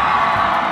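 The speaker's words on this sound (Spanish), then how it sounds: "Démosle un aplauso bien duro al rock de Colombia" Audience at a Colombian rock awards ceremony cheering and applauding, a brief loud wash of crowd noise heard up close.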